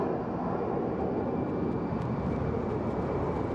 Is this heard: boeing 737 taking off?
yes